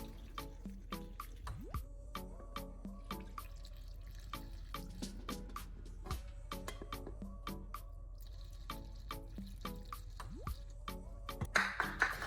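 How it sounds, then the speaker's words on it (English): Distilled water trickles and splashes into an old car battery being rinsed, with irregular drips and pours and small plastic clicks, close and fairly quiet, ending in a brief louder slosh. "I continue pouring distilled water into the battery. Rinse it one more time to pull out the remaining residue."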